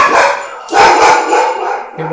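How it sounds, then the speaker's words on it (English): Dogs barking nearby during a backyard craft project making casting spoons, a few loud short barks and yips in quick bursts over a couple of seconds, close and prominent. "I don't know what the hell these guys are barking at."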